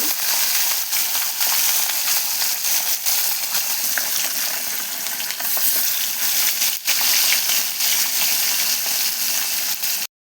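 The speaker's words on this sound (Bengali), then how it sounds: "সবগুলো এক এক করে ভেজে দেবো" Sarputi fish fries in oil in a pan, giving a loud, continuous close-up crackle and sizzle with stirring scrapes, cutting off abruptly at the end.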